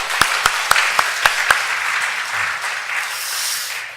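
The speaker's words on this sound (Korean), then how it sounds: "우리 박수로 다시 한번 격려하겠습니다." A church congregation claps after a hymn at an afternoon worship service, starting with a few distinct, separate claps that swell into a steady wash of applause.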